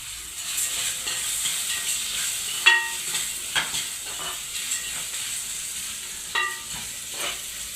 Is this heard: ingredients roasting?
yes